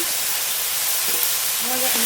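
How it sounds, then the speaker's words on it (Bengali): Banana flower fries in oil in a wok with salt and turmeric, giving a loud, even hiss of sizzling that stays steady throughout the brief moment. "মোটাটা এবার একটু ভাজা ভাজা করে নেবো"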